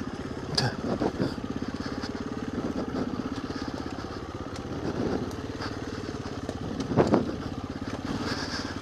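Motorcycle engine throbbing at a steady mid-pitched idle-like rhythm while changing down a gear, close and fairly loud, with brief clattering bursts partway through and near the end.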